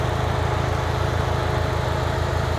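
A 2019 Subaru STI with a new COBB exhaust and carbon fiber intake idles steadily, a low even burble with a regular pulsing rhythm, close and continuous and without talk.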